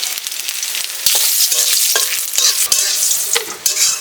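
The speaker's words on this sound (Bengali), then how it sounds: "আমি জিরে দিয়ে দিচ্ছি, তেজপাতা দিয়ে দিচ্ছি" Cumin seeds and bay leaf crackling in hot oil in a wok, a loud close sizzle with sharp spatter bursts and stirring clatter, no talk.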